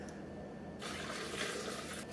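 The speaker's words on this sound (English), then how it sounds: "We're going to pour in about 8 ounces of water." Water, about eight ounces, poured into a blender holding spinach for a ginger, lemon, apple and spinach health shake: a steady hissing, splashing pour that starts partway in and runs on, close and moderate, with no talk.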